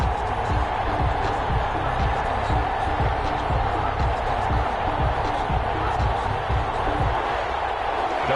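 A stadium crowd in an NFL video game, Chargers versus Saints, hums and cheers as a constant loud wash of noise with a low rumble, under a commentator's voice.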